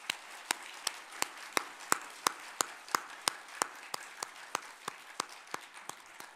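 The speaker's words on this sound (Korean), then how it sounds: "박수를 올려드리겠습니다" A church congregation in Bucheon claps during an Advent Sunday worship service, a slow, evenly spaced rhythm of single sharp claps that sounds like a few hands beating in unison rather than a full ovation, with no talk.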